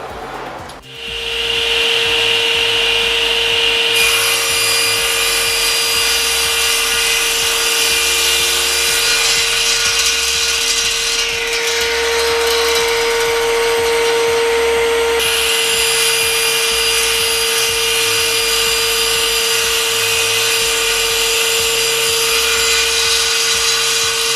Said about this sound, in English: we don't have to now hold the wood other than guide it through the saw